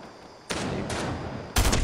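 SMG fire in a video game squad fight, loud bursts of rapid gunshots that start abruptly, continue in a dense stream and end with a louder, heavier burst.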